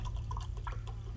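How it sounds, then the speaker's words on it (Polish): Water pours into a container in the fantasy game Risen, a faint brief trickle and drip heard over a low steady hum. "Tu sobie tu wodę naleję."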